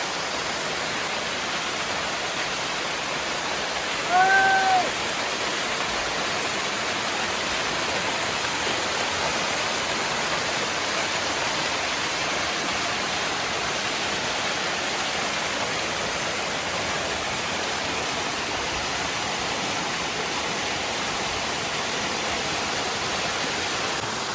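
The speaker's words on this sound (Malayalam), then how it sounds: "ഒരു ചെറിയ വെള്ളച്ചാട്ടമാണ്, നല്ല അടിപൊളിയാണ്" Small waterfall near Varavoor, Vadakkanchery, producing a steady, dense rushing roar of falling water that stays uniform throughout, with a brief faint bird call early on.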